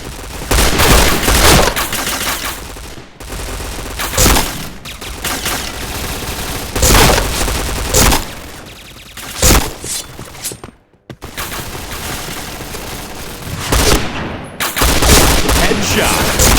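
Bursts of P90 gunfire from a shooting video game in head-hunter mode come as loud, rapid automatic volleys separated by short pauses, with game announcer callouts between the shots.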